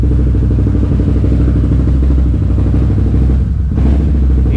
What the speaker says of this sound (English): Idle just keeps skipping on it.